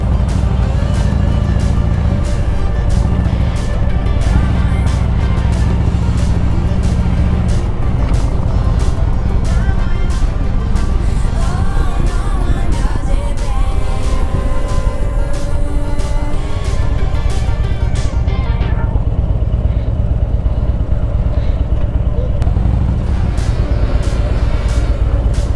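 A large group of Harley-Davidson motorcycles, including a Street Glide, riding together at night through Christmas illuminations, a continuous loud engine rumble and road noise with occasional revving, steady throughout.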